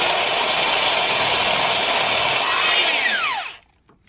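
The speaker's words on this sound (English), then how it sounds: "You're trying to drill holes in metal with a janky drill" A power drill with a worn, cheap bit whines steadily at high speed while boring holes in metal, loud and close, then spins down with a falling pitch and stops.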